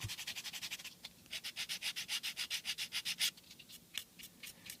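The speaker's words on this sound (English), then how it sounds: "I need to sand this side more until that paint disappears" Sanding the seams of a Bandai 1/60 Strike Gundam plastic model kit, a close, rhythmic series of short back-and-forth rasping strokes, about two dozen, with brief pauses between bursts; no talking.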